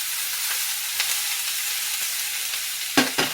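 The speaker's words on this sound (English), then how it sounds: "So now, I cook the onion in there for 5 minutes." Onion cooking in a skillet for a vegan sausage, potato and pepper meal, giving a steady close hiss of frying with a few faint stirring taps and two sharper scrapes near the end.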